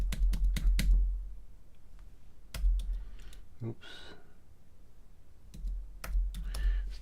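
Short bursts of typing on a small computer keyboard come in quick clusters of clacks separated by pauses, close and fairly loud, with a brief spoken word in the middle.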